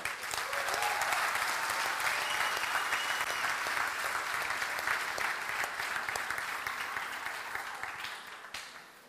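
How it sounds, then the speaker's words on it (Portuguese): Sustained applause from a church retreat congregation, loud and dense clapping that carries steadily for several seconds before tapering off at the end. "Palmas para Jesus"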